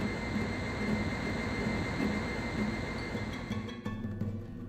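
Aircraft engine roar from a plane taking off in the PC video game Recoil, a steady loud jet-like drone sustained throughout, thinning slightly near the end.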